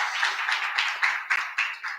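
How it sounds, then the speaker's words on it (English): A church congregation applauds at a candidate forum, with steady, fairly loud clapping running throughout and no voices over it. "Let's give God a round of applause."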